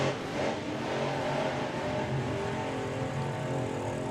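A drag racing car at a sportsman nationals event revs its engine hard and accelerates, a steady loud roar heard at a moderate distance without talk.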